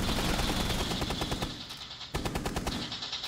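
Rapid automatic gunfire rattles in a video game, shooting through a wall in two loud, close bursts of fast repeating shots with a brief gap between them.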